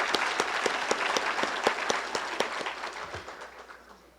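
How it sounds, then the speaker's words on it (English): An audience applauds newly graduated certified municipal officials at a 2015 ceremony, a dense burst of clapping with sharp individual claps that gradually thins and fades out. "Please give these graduates a round of applause."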